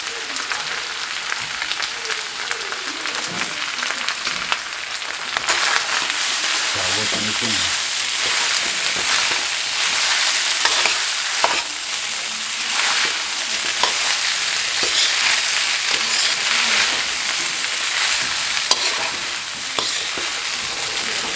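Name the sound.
rice frying in a pan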